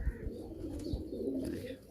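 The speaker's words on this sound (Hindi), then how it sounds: "ये कबूतर है बड़ा, ये मादी है इमामदीन" A pair of Imamdeen pigeons coo nearby in low, throaty, repeated calls, with light flutters and knocks in the background.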